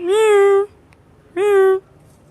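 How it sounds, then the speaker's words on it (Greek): A cat on Paros meows twice, loud and close, each meow drawn out and tonal with a short gap between them, and no talking over it. "έχουμε βρει μια ωραία γάτα. Πες μιαου."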